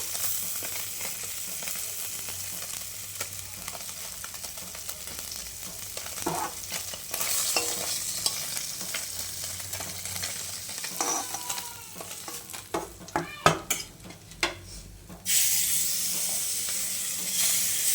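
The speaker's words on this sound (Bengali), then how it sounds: "এখন ভেজে নিচ্ছে মা মাছগুলো, ছোট মাছগুলো ভেজে নিচ্ছে।" Small fish frying in a home pan, a loud, steady sizzle with bursts of spitting and crackling and occasional clatter of a utensil, rising to a harsher hiss near the end, with no speech.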